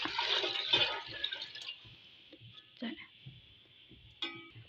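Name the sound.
pouring water into a pot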